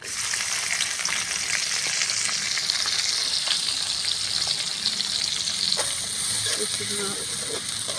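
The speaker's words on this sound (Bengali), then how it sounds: "লাল করে ভাজিয়ে নিতেছি" Chopped onions fry in oil and ghee in a kadai with bay leaf, cardamom and cinnamon for prawn pulao, giving a continuous close sizzle with faint stirring scrapes.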